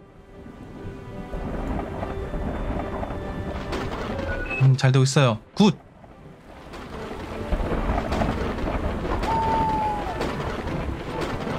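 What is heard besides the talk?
thunderstorm in oil tycoon video game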